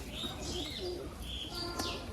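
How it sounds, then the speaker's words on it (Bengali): Pigeons coo close by on a house rooftop, with soft repeated calls and a few brief chirps over a steady low background. "কিছু পায়রার এখনো ভয় আছে"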